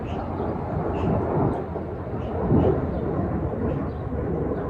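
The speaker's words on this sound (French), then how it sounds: "deuxième avion" An airplane passing overhead during an outdoor summer chat, a steady broad rumble that swells slightly toward the middle and holds throughout, with no talk over it.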